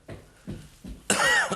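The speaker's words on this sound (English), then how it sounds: "Just like you might be getting a bit of a cough." Several short coughs from one person indoors, rough bursts spaced about every half second, followed by a louder, longer hacking burst that breaks into a scratchy, throat-clearing tail.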